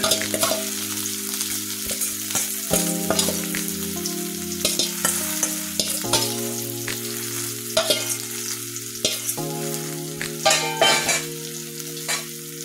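Red amaranth greens hit a pan of fried onions, with soft sizzling and repeated scraping and clinking of a spatula and utensil against the pan in uneven bursts, close and moderately quiet, no talking.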